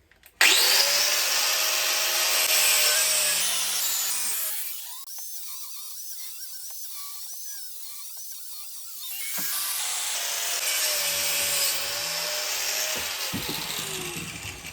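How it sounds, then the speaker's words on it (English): An angle grinder cuts into a metal shredder in a shed, a loud, close, high whine that drops to a quieter spin-down midway before biting into the metal again, with no talking. "I think we're going to go with plan A, which is the grinder again."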